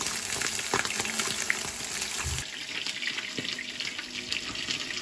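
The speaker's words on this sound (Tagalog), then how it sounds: "Ako po ay nagpiprito na nitong ating bangus." Milkfish sizzles and crackles steadily in hot oil, a dense hiss with small pops, moderately loud and close, with no voices.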